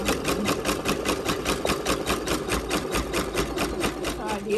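Janome MB7 embroidery machine stitching a satin stitch on a T-shirt in an 8x9 hoop, a fast regular mechanical chatter of needle strokes with a steady motor hum, close and continuous.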